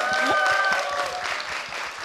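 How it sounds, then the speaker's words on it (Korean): Studio audience applause on a talk show, a brief burst of dense clapping with a few raised voices, close and steady. "진짜 다시 한번 축하의 박수 부탁드리겠습니다"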